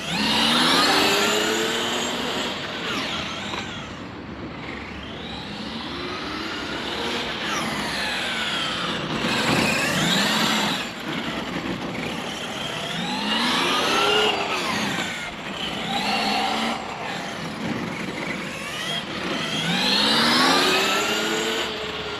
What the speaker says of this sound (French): là j'enfonce quand même systématiquement les gaz à fond à chaque petit bout de ligne droite